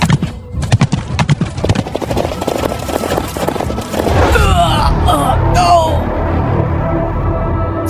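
Horse hooves clip-clop in a rapid rhythmic patter for several seconds, then give way to a louder rush of movement and a whinny-like cry, all close and prominent.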